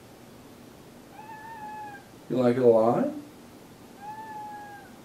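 A domestic cat gives a couple of short, clear meows, one before and one after a person speaks nearby at close range.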